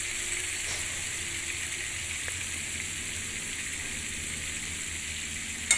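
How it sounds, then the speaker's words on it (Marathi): Spice masala being sautéed until reddish in a pan for a brinjal-potato curry, a steady soft hiss of frying that barely changes, with one faint clink at the end. "हा मसाला लालसर भाजून घ्यायचा थोडंसं आपल्याला"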